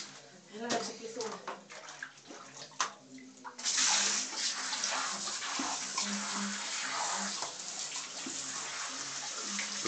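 Running water rinses in a bathtub, sloshing and splashing at first, then a tap opens into a steady close hiss of flowing water, with people talking over it throughout.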